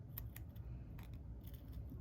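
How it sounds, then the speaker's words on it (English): Scissors snip off excess pieces in a papercraft project: a few quick, crisp cutting clicks, fairly faint and close, over a low steady background hum. "Now I'm going to come in with my scissors, and I'm just going to snip off the extra pieces."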